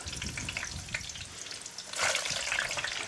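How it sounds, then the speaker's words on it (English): French fries drop into hot frying oil at 350 degrees for a second fry, giving a loud, continuous close sizzle that surges noisily partway through. "Fries in."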